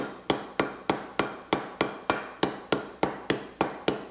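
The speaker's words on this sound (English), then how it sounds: "I like a smaller hammer, one that you can control a little more. You tap alternately," A small hammer tapping a new bearing into a case in an even rhythm, about a dozen sharp, close metallic knocks spaced roughly a third of a second apart, with no talking.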